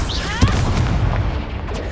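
A fiery Confringo blast spell goes off in the Hogwarts Legacy video game, a loud booming burst with a brief crackling impact, set over dense game music and effects.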